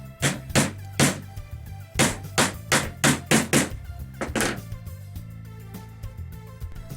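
A hammer taps a wheel onto a balloon car axle repeatedly, a run of sharp close knocks in an uneven rhythm, then a few softer taps as it settles.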